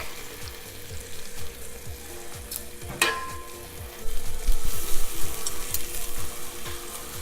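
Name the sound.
garlic frying in olive oil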